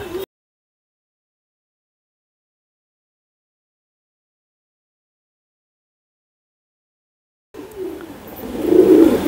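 Rampuri high flying pigeons, a pair of breeding birds, coo softly near the end after a long silence, with a brief earlier burst and rising murmuring coos up close.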